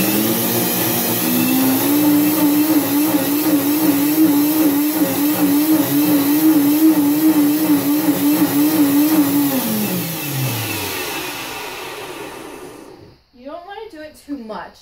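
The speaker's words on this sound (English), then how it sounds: "I just put it in the Vitamix, and like you get powdered sugar" A Vitamix blender grinds sugar into powdered sugar with a loud, steady whirring roar that holds its pitch, then winds down near the end; a voice talks briefly after it stops.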